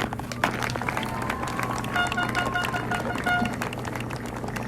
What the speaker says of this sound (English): give a special thanks and round of applause to our parents